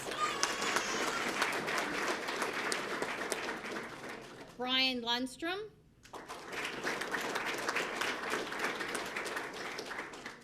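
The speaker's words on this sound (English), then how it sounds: "give him a round of applause" Audience applause fills a police swearing-in ceremony hall, a steady wash of clapping for several seconds, then a brief pause while a man announces a name over a microphone, before the crowd claps again for the rest.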